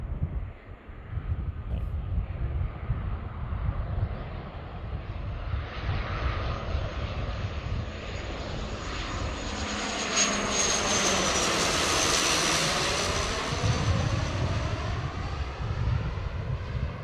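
An Air Canada Jazz airliner on a short flight from Vancouver passes overhead near Seattle, its engine roar swelling, sweeping downward in pitch as it goes by, then fading, with some wind buffeting on the microphone.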